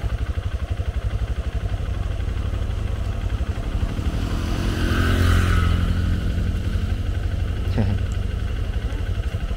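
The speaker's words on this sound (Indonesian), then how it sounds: "Awas pak, ada motor pak." A motorcycle rolls past on a rough road, its engine rising to a close, loud swell at midpoint and then fading, over the steady idle of a nearby motorbike.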